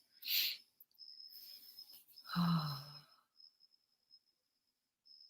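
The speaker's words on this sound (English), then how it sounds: "Yeah, it is crickets. My windows are open." A steady high-pitched cricket chirping carries on in the background, with a sigh-like breath and a brief low vocal sound over it.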